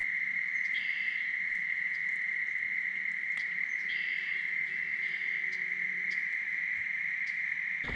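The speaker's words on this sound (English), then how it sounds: "Crickets are loud, aren't they?" Crickets in swampy woods keep up a loud, steady high-pitched trill, joined by intermittent chirping bursts from other insects or birds, with no voices present.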